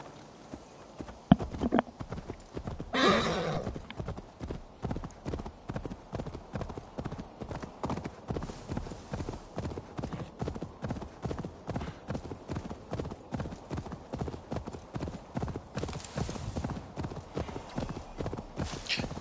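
A horse gallops in a PS5 video game, its hooves clip-clopping in a steady, close rhythm for nearly twenty seconds. A short neigh breaks in early, and someone speaks quietly now and then.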